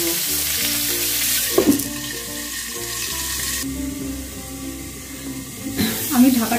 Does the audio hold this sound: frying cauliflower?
yes